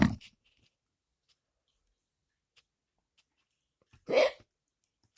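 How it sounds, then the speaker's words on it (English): Two short hiccups, one at the very start and a louder voiced one near the end, separated by several seconds of near silence. "Oh dear, you still got the hiccups."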